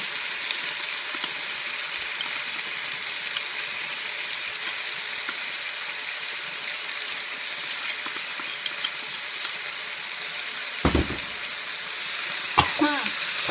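Chinese kale and chicken stir-fry in a hot pan with a steady, dense sizzle throughout, broken by a couple of louder scraping stirs near the end, close and continuous with no talk.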